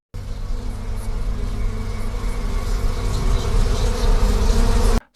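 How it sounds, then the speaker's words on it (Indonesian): A swarm of flies pours into a car in a film scene, making a dense, steady, droning buzz that swells slightly louder toward the end before cutting off abruptly. "ternyata itu bukan awan, melainkan sekumpulan lalat yang mulai masuk ke dalam mobil mereka"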